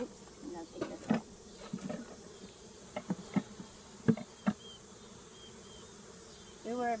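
Bees buzzing around an open beehive during a hive check, a faint steady hum with occasional closer buzzes passing by, under soft outdoor background.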